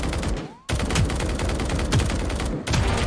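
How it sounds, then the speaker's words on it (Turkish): Continuous loud automatic gunfire in the mobile shooter Valorant Mobile, fired through a wall, with rapid repeated shots broken by brief gaps, close and dominant throughout. "Raze'e sıkıyordu, başkasını vurdu duvar arkasına."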